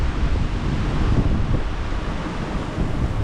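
Broad, roaring wash of big surf at Jumeirah Beach mixed with heavy wind buffeting the microphone, continuous and loud with no voices.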